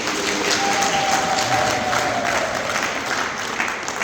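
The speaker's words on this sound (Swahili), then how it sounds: "naomba tuwapigie makofi" A crowd applauds newly recognised lay church leaders at a diocesan installation in Iringa, with sustained, dense clapping filling the whole stretch, loud and close, with no voices standing out.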